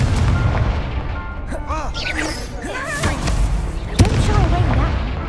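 An explosive Confringo spell in the Hogwarts Legacy video game, heavy booming blasts under a loud dense game soundtrack with a spoken voice, with a sharper impact near the end.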